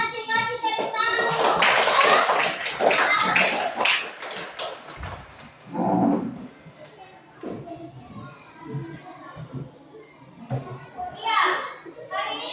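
Children clap together in a classroom after a cooking lesson, a burst of quick handclaps mixed with lively kids' chatter and an adult voice, followed by more talking and scattered noise.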